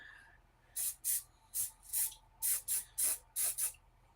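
Cheap aerosol hairspray sprayed onto foliage on model railway trees, nine short, crisp hissing bursts in a fairly regular series, close and clear against a quiet background.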